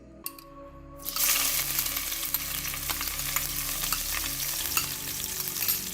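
After a brief quiet moment, a loud, steady sizzle of ginger garlic paste frying in hot oil bursts in and continues, with occasional scraping clinks of stirring.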